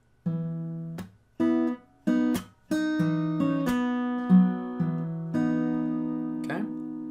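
Acoustic guitar picking out a song's part slowly, with single plucked notes and open strings ringing in a halting, measured rhythm, close and clear with no talking.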